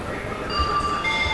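Kakinada Town–Mysore express train pulling into platform 5 at KSR Bengaluru station; a steady loud rumble of rolling wagons with high thin metallic squeal tones from the wheels, continuous and close.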